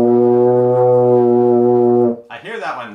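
A beginner's tuba holds a low D with the first and second valves down, a steady, buzzy, foghorn-like tone lasting about two seconds, followed by someone speaking briefly.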